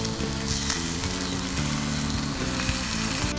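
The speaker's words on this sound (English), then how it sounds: "Oh, that's a nice sear on that." A ribeye steak sears on a hot grill with a strong, steady sizzle under a droning, humming mechanical background, close and constant throughout, with no talk.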